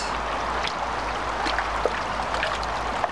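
Creek water churns and gurgles as it is stirred up against the rocky bottom with a D-net held upstream, a close, steady rushing flow with a few small splashes, no talking.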